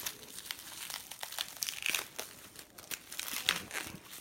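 Crinkly plastic cellophane wrap is peeled and crumpled off Bicycle Prestige plastic card decks, a close, continuous rustling with sharp crackles throughout and no talk.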